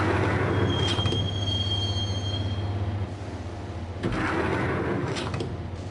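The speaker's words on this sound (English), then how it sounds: "the train doors had already shut behind me, and I was in for the ride" Train ride in the video game Max Payne: a steady rumbling roll of railcars with high metallic wheel squeals early on, rhythmic clatter bursts around the middle and end, close and continuous with no talk.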